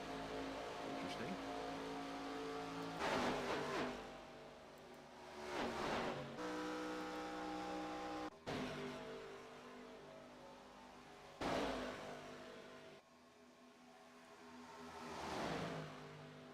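Race car engines on a track during an AACS late-model race, several passes swelling loud then fading with rising and falling revs, steady engine roar between, commentary over the top.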